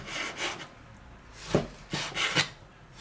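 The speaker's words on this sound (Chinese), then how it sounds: "肥肉先给它切片" A knife slices a small piece of pork fat on a cutting board, giving several soft, close scraping strokes with light knocks against the board, fairly quiet.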